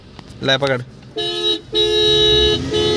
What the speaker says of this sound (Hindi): ओ सॉरी हॉर्न मारूंगा भाई